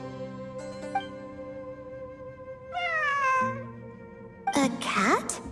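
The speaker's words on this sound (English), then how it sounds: "A cat?" A cat meows several times in Genshin Impact, with rising and falling calls over steady background game tones, ending in a louder, more strained meow.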